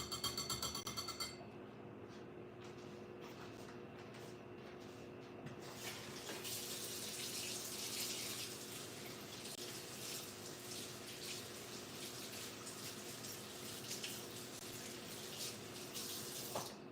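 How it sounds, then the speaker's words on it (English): Tap water runs steadily into a kitchen sink while a whisk is rinsed under it. The stream is close and continuous, with a faint clink at the start. "let me clean my whisk up because I do need my whisk again."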